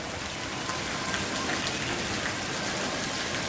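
Steady rain pours down in a dense, even hiss over Velasar, Gujarat, drumming on surfaces with no pauses.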